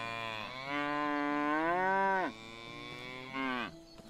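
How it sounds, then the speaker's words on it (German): A cow in the farming game Medieval Dynasty gives a long, drawn-out moo that rises and falls, then a shorter second moo, clear and alone. "Die Kuh ist käuflich."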